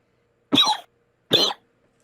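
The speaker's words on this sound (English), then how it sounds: "Yeah, it's just I got a bit of cough." Two short, sharp coughs from one person, close and clear, separated by a brief pause in near silence.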